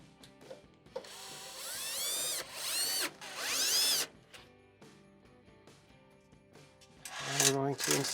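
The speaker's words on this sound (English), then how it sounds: "Install our screws." A power driver drives screws into the control panel cover of a Whirlpool stove, with several whirring bursts of rising pitch separated by short pauses, close and fairly loud, plus handling clatter.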